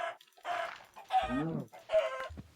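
Chicken clucking in Minecraft, a few short game-style clucks in separate bursts, clear and fairly close with no talk over them.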